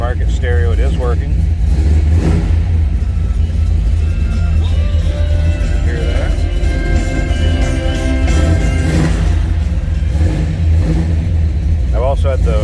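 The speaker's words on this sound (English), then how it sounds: "Let's fire this up, let it warm up just a little bit. Let's hear it run." A 1970 Chevrolet Chevelle Malibu hardtop idles just after a cold start with a loud, steady, deep rumble that runs throughout, while someone talks over it.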